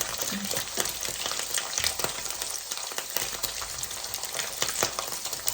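Sugared fish fries in hot oil, a loud dense crackling sizzle with frequent sharp pops and spatters, continuous and close.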